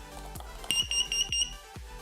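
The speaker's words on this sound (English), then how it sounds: "we're going to test the fire angel carbon monoxide alarm by pushing the test button" A FireAngel carbon monoxide alarm sounds during a button test, giving three short, shrill, evenly spaced beeps over faint background knocks.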